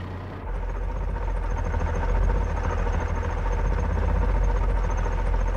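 Roaring engines of naval fighter boats in a radio play, a dense continuous low drone and vibration that swells slightly and holds steady, heard alone.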